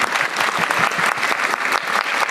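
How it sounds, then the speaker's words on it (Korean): An audience claps steadily together, a dense, continuous applause with no speech over it. "두 분 오셨는데 박수라도 한번 부탁드립니다."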